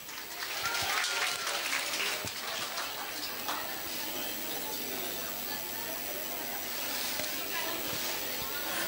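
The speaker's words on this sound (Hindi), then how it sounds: "जोरदार तालियां बजाएं।" A college festival audience applauds a performance, producing a dense, steady wash of clapping with some voices mixed in.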